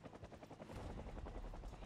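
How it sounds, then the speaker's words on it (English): A helicopter passes overhead in Project Zomboid, its rotor thumping in a fast, rough rhythm that swells louder halfway through, with no talking. "The helicopter always comes when you, like, least want it to."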